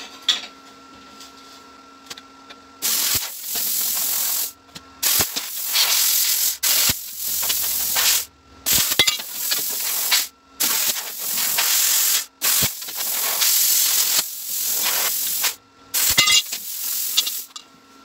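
Metal is cut cleanly into pieces in loud, harsh hissing bursts that start and stop repeatedly, each roaring blast lasting a second or two.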